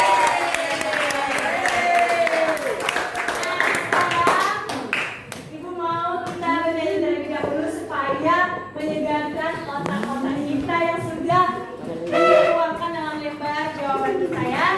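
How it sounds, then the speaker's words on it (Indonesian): An eighth-grade social studies class claps and cheers in the room, a bright burst of hand claps at first, then children's excited voices and chatter with scattered claps continuing. "Tepuk tangan dong untuk kita semua."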